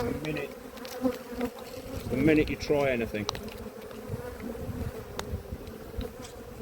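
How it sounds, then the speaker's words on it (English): Many bees buzz loudly and steadily close around, with higher whines darting past, while someone speaks briefly over the swarm. "20 bees banging around my head."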